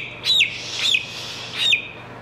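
A barred rock chicken gives three high, clear chirps spaced about half a second apart, close and distinct over a faint low hum.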